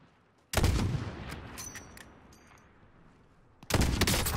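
Bursts of automatic gunfire in the Call of Duty Warzone video game, two loud dense volleys at the start and end with quieter sporadic shots and reverberating tail between them.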